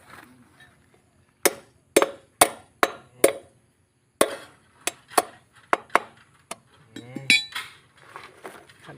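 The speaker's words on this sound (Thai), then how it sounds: "ตอกขอบลูกบีออกเนาะขอบเก่ามันคาอยู่ใน" A hammer strikes metal repeatedly to drive the old bearing race out of a farm tractor part. The clanging blows come sharp and close in uneven bursts, with someone talking quietly between them.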